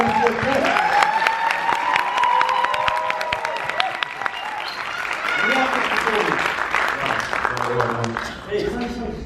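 A large crowd at a university event in Nepal applauds for the University of Kent, dense continuous clapping mixed with cheering and shouting, loud and close, fading slightly near the end.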